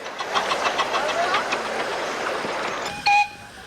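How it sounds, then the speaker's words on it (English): Tinkerbell, a large Roger Marsh design miniature railway locomotive at Halton Miniature Railway in 1993, makes rhythmic rattling and clanking for a few seconds, then gives a short sharp whistle toward the end. "Beautiful locomotive. Tinkerbell based on the Roger Marsh design. Quite a large locomotive and a really good passenger hauler."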